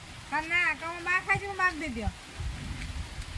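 Rain falls in a steady, soft background hiss while a person talks over it in the foreground.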